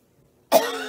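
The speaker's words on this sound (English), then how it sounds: "I'm trying to cough to the side again." A single sharp, close cough bursts out after a moment of near silence and trails off briefly.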